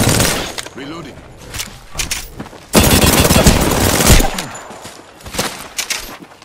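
Automatic gunfire in Apex Legends rattles in bursts, with a dense sustained volley midway and sharper shots on either side, along with breaking and impact sounds; game voice lines come in between.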